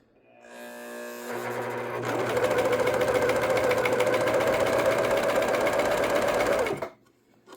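A serger sewing machine stitching sleeve fabric for a sleeve alteration, starting with a low hum, then whirring loudly and steadily for about five seconds before stopping abruptly, close up with no talk.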